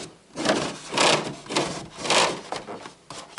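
An acrylic standee insert slides back into a Deliverance board game box, giving a series of soft, close scraping and rubbing sounds in short repeated strokes, with no talk.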